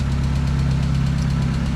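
The engine of a 1994 Mazda Miata idles steadily and loudly up close, with a fast, even ticking riding over the low rumble.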